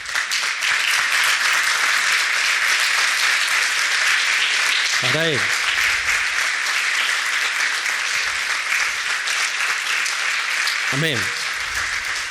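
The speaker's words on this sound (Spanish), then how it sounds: "Dale un aplauso." Congregation applauding during a church sermon, a steady, loud wash of clapping throughout, with a brief spoken phrase over it.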